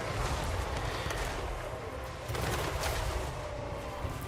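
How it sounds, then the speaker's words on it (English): Dense, continuous blunderbuss gunfire and explosions from a Total War: Warhammer 3 battle, loud and crackling throughout, with no pauses. "now my blunderbusses are going to do so much damage to these guys"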